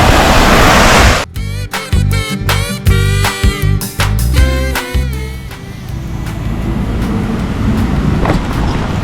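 A waterfall at the Pittsburgh Zoo pours as a loud, steady broadband rush, briefly broken early on by a run of sharp clattering and thudding sounds before the even wash of falling water resumes.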